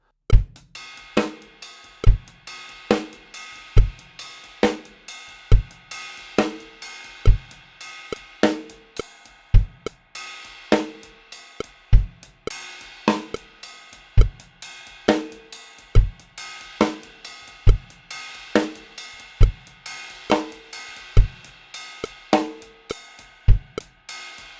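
Solo drum kit working through a figure that shifts between 16th notes and triplets, steady repeated hits with kick accents at a brisk, even pulse, close and loud with no talking.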